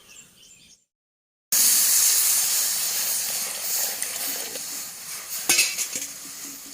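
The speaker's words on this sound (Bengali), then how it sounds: "এবার কড়াইয়ের মধ্যে জল দিয়ে দিচ্ছি" After a brief silence, water hits a hot wok with a loud, steady hiss of steam, followed by a few metallic clinks of utensils.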